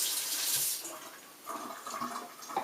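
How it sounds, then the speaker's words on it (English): Tap water running in a kitchen sink as a knife is rinsed, a brief close rushing splash that eases off, then uneven trickling and spatter, no talk. "Rinse off your knife."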